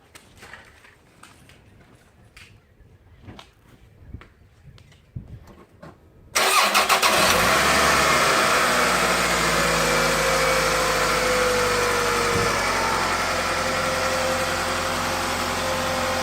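A Toyota car engine, just fitted with new spark plugs and coils, cranks and catches with a sudden loud burst after several seconds of quiet clicking, then settles into a steady, even idle.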